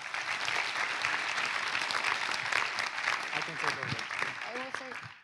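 An audience at an opening ceremony claps steadily and loudly, dense applause filling the room throughout, with a voice starting to speak over it near the end as the clapping thins out.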